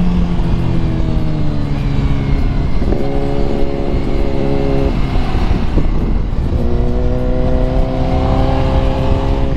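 A 2021 Ducati Multistrada V4S, a 170 hp motorcycle, accelerates hard on a race track, its engine pitch climbing in repeated loud, close sweeps as it shifts up through the gears, with no talk.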